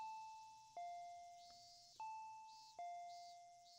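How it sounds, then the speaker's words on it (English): A doorbell chimes twice in quick succession, each a two-tone ding-dong ringing out and fading, fairly quiet and alone. "I heard the doorbell ringing."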